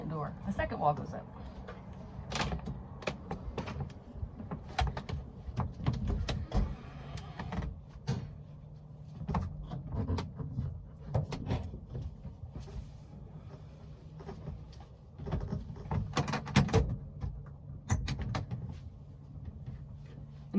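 The second sidewall of an Aliner folding camper goes up at a beach RV park, a run of clattering knocks and panel thumps, loudest near the middle and end, over steady low background noise and some talk.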